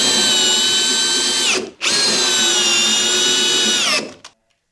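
A power drill drives screws into floor noggins under a suspended floor, whining loudly in two long runs that each wind down as the screw seats, with a short pause between.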